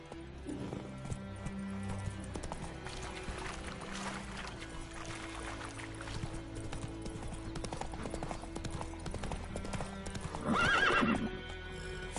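Roach the horse gallops in The Witcher 3, with steady hoof clip-clops over a musical score, and a loud whinny rises near the end.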